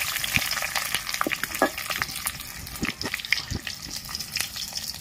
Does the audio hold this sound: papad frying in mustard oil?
yes